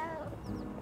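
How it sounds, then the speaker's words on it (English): A cat meowing in the video game Little Kitty, Big City, one short, close, clear meow at the start followed by a faint trailing sound and quiet background. "There's another cat. It looks like me almost."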